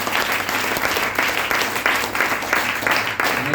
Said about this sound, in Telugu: ఒకసారి జోరుగా చప్పట్లు కొడతామా?